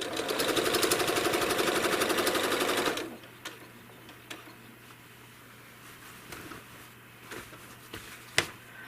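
A home sewing machine machine-quilts with a loud, rapid rhythmic stitching whir for about three seconds, then stops, leaving a quiet hum broken by scattered clicks and taps.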